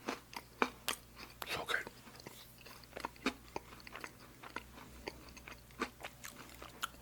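Close, crunchy bites and wet chewing of cake topped with cream cheese icing and coconut, irregular crisp crunches repeating over soft mouth sounds, with a brief whispered comment.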